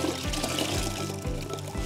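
Clean water poured for rinsing grout haze off tile, a steady liquid pour with a few rhythmic low surges, close and fairly loud, with no talking.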